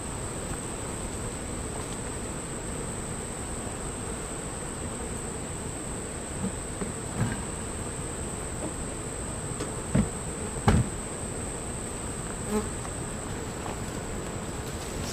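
Honey bees buzzing during a hive split, a steady, moderately faint hum throughout, broken by a few soft knocks from hive handling.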